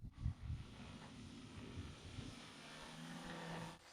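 A radio-controlled VTOL aircraft flies away with new servos fitted, its faint motor drone steady and receding in the distance against outdoor background noise.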